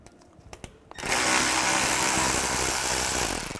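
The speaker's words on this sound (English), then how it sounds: "Then we'll take this bolt out here, use a T25 socket." A power tool, likely an impact driver fitted with a T25 socket, removes a bolt during front bumper cover replacement on a 2007-2013 Mini Cooper. A few quiet clicks come first, then the tool whirs loudly and steadily, close up, for the rest of the clip.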